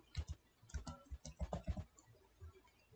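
Typing on a computer keyboard while searching for Control Panel in Windows 11: soft, quick clicks in short irregular bursts, close and quiet, then a brief pause and a few last taps, no talk.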